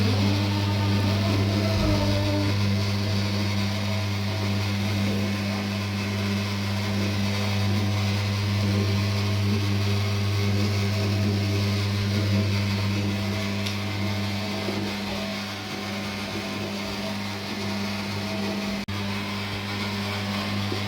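A gear-driven bakery dough mixer for cake, biscuit and bread dough runs continuously, a steady loud motor hum with a strong low drone and even mechanical whir throughout, with no voices.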